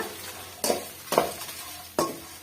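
Tamarind and dried red chillies dry-roast in a pan with a faint, steady crackle, broken by three distinct scraping stirs of a spoon or spatula against the metal.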